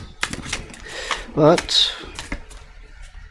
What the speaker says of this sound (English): I'm giving these a good shuffle first and then I'm going to lay them out